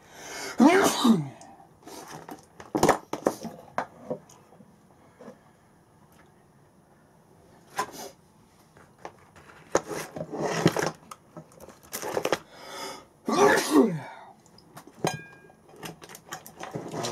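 Two sharp sneezes ring out close by, separated by quieter clatter and rustling, with a few short knocks in between.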